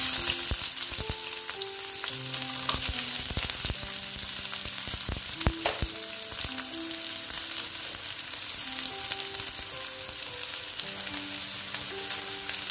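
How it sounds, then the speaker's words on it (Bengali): Onion frying in hot oil with a steady, dense, crackling sizzle that stays loud and close throughout, with occasional louder pops and no talking. "দেখো তেলটা প্রায় গরম হয়ে আসছে। এবার আমি পেঁয়াজ দিয়ে"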